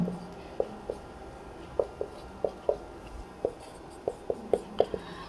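Chalk or pen writing out maths on a board or paper: a dozen short, sharp scratchy taps and strokes in an irregular rhythm, close and fairly clear over quiet room noise.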